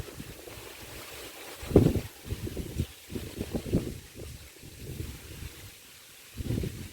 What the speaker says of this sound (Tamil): சவுண்டு பேக்ரவுண்டு கேட்கும்னு நினைக்கிறேன். காற்று உசு நடிச்சிட்ருக்குது.